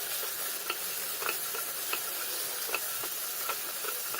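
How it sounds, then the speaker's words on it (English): Tomato masala fries in a pan, a soft, steady sizzle with regular scraping taps of a spoon stirring roughly twice a second, quiet and close with no voices. "Fry the tomato well."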